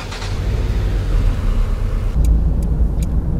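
Renault Clio 4 RS driving on a road, a loud, close engine drone and rumbling tire roar holding steady throughout, with a few brief high ticks toward the end.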